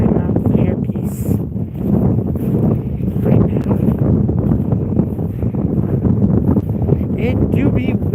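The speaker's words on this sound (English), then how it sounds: "It do be windy now." Strong wind on a snowy mountain buffets the microphone in loud, gusty low roaring bursts that continue throughout, while a person briefly speaks underneath.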